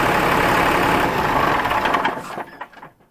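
A Cummins diesel engine idles with a busy, steady clatter, then is shut off, stuttering and winding down to silence over the last second.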